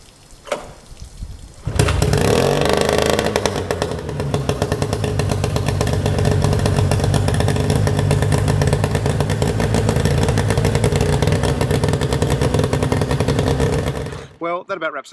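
A freshly serviced outboard motor starts after a short cranking burst and settles into a loud, steady, buzzing run close by, with a rapid clattering pulse that holds for several seconds before cutting off near the end.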